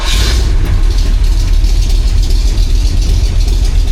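A rebuilt 1977 Jeep CJ-7 engine idles steadily and loudly up close, its low rumble continuous throughout with a brief higher hiss at the very start.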